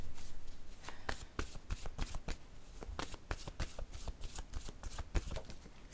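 Oracle cards are shuffled by hand in a run of quick, irregular snaps and soft slaps, fairly faint and close, continuing for several seconds with no talk over them.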